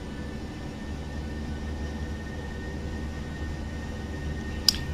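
Boeing 737-800 jet engines held at takeoff power in the PMDG flight simulator: a steady, even roar with low rumble throughout, broken only by one brief sharp click near the end.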